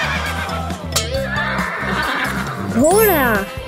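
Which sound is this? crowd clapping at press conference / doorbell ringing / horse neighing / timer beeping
horse neighing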